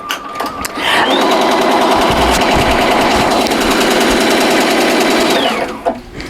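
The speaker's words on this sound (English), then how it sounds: "we're going to go ahead and hit start and start stitching" Tajima Sai embroidery machine running a small sketch design in a Mighty Hoops frame, a loud rapid mechanical chatter of needle strokes that starts up, runs steadily for about five seconds, then winds down and stops.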